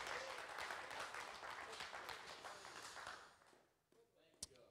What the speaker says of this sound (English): Give him a hand clap tonight.